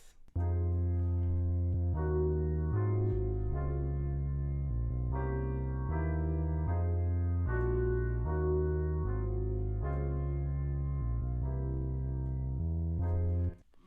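A deep, sustained dark R&B bass line moves under slow piano chords, dark and smooth, playing continuously at a relaxed tempo with no voices.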